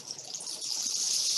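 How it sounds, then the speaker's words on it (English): A recording of ocean waves plays at a poetry reading, heard as a steady, soft hiss of washing water that swells slightly toward the end, alone with no voices. "Waves are still playing now."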